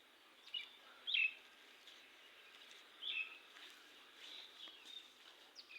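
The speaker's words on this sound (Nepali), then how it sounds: "त्यो उठ्ने बित्तिकै चराहरूको त्यो चिरबिर आवाज सुन्न पाइन्छ।" Birds in morning trees give a few faint, brief chirps, two clearer ones spaced a couple of seconds apart, over a quiet, hushed outdoor background.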